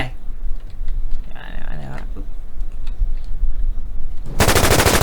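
Gunfire in the online shooter War Inc, loud and close, with scattered shots giving way to a dense rapid machine-gun burst at the end, while someone talks over the action.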